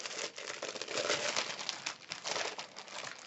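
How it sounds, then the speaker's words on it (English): Papers rustle and crinkle close by, a continuous busy shuffling with irregular crisp bursts. "I apologize for all the shuffling."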